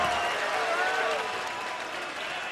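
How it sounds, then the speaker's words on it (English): A darts crowd at the World Series of Darts final roars and applauds loudly after a double 16 is hit, a sustained, close cheer and clapping with no talk. "the crowd roar tells you he's hit the double 16."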